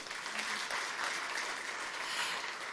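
Applause from a concert-style entrepreneurship talk audience, a soft, distant, continuous patter of many hands clapping at an even level.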